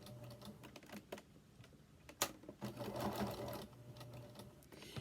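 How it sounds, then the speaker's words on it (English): A sewing machine stitches the seam of a fabric bowl cozy in a quiet room, running in short, uneven bursts with soft clicks and taps and one sharp knock midway. "So you're going to sew down to that first seam"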